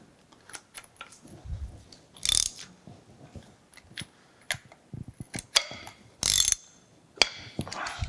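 Metal ratcheting clicks and wrench-tightening clunks on a horizontal milling machine setup for cutting helical gears, irregular close bursts with two sharp loud rasping strokes between quieter taps.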